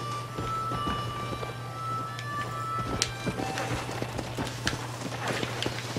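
Horse hooves clip-clopping in Red Dead Redemption, a steady run of close, distinct hoof strikes carrying on throughout over a low steady hum and ambient game noise.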